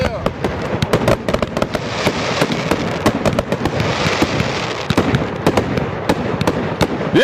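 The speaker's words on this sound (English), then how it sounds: "And these fireworks been going on for a long time." Fireworks go off in a long, dense barrage, with many close, loud cracks and bangs firing in rapid succession while people talk excitedly.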